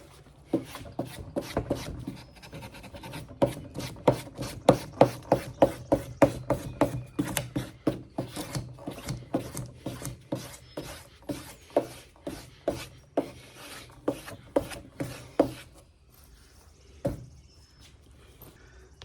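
A headlight lens is sanded by hand with a 2000 grit disc, giving rhythmic rasping strokes, about two per second, steady and close, fading into a few scattered rubs at the end.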